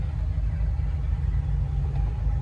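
The engine of a 2002 Sea Ray 380 Sundancer boat runs right after a dead cold start, a steady deep idling rumble heard close and alone.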